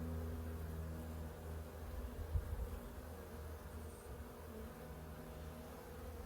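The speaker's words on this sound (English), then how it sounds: "I had a bunch of bees try to rush at me" Bees buzz in a steady, fairly quiet drone around an opened beehive, with a low hum beneath and a brief thump near the middle.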